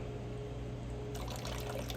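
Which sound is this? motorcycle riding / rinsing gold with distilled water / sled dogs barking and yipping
rinsing gold with distilled water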